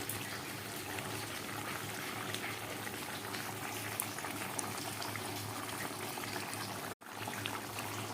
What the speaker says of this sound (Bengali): এবার ভালো করে ফুটে ঝোলটা একটু কমে এলে তারপর ধনে পাতা দিয়ে আমি নামিয়ে নেব